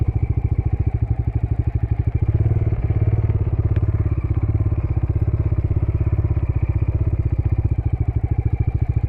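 A green and black Bajaj Dominar 400 motorcycle with a 373cc engine idles close by, its exhaust thumping in a fast, even pulse that stays steady throughout with no other sounds.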